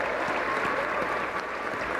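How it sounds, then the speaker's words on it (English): Audience applause at a games opening ceremony, thanking a pipe band after its set: a steady, dense wash of clapping from a crowd, continuous and even for about two seconds with no voices on top. "Another round of applause for them."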